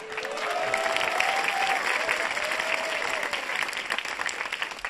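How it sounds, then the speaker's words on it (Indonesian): A comedy show crowd breaks into applause, a full, even wash of clapping with a few cheers rising above it, continuing for several seconds. "Boleh tepuk tangan?"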